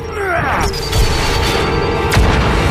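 Cartoon grenade explosions with a whistling fall, then heavy booming blasts and crashes, and a second hard boom later under the busy mix.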